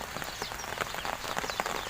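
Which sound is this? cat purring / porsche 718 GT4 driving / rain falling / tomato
rain falling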